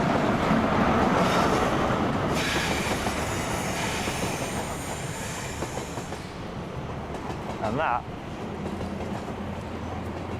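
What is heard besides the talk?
train departing a station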